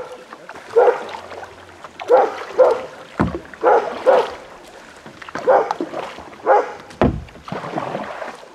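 A dog barks repeatedly in short, separate bursts near kayaks on a lake, close by, with a faint low rumble and a few quiet background sounds between the barks.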